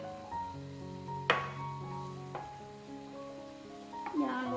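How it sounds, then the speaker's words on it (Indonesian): Doughnut batter frying in hot oil, a steady soft sizzle with a few sharp clinks of a utensil against the pan, close and fairly quiet. "sambil kita goreng yang lain"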